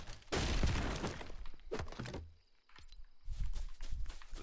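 Lego brick box in Fortnite shattering when punched: a loud crackling burst of breaking plastic pieces, followed by scattered clattering bits and a second smaller cascade near the end.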